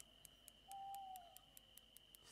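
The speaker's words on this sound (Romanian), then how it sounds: "Ce se aude, mă? Bufniță?" Owl hooting in the Fishing Planet fishing video game, a single brief, faint hoot over a steady ambient background with regular ticking clicks.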